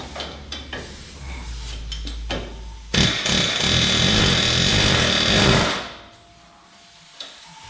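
Metal chiselling on a crew cab truck's rear suspension, a few sharp knocks, then a loud sustained rattling burst of a powered chisel lasting about three seconds before it cuts off, close by.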